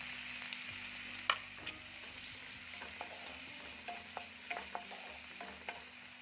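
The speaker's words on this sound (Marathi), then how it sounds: "तर हे गरम झाले की यामध्ये मी टाकत आहे बारीक चिरलेला कांदा. कांदा आपल्याला छान भाजून घ्यायचा आहे सोनेरी रंगापर्यंत." Finely chopped onion frying in butter in a pan for a green chicken hariyali dish, a steady soft sizzle with occasional stirring clicks and scrapes, fairly quiet and close, no voices.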